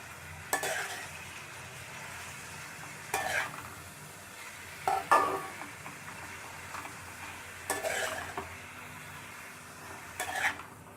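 Okra curry in a pot being mixed with spices: a few spaced, clattering strokes of a spoon against the pot over a faint, low background simmer, close by and with no one talking.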